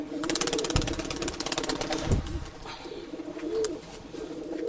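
Red male breeding pigeon cooing at a Bangalore pigeon sale, a throaty repeated coo near the mic over busy bird chatter, a low engine rumble and faint background voices.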